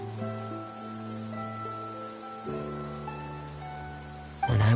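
Rain falls steadily in Fontaine in the video game Genshin Impact, a soft continuous patter under tonal game music, with a sudden louder burst at the very end.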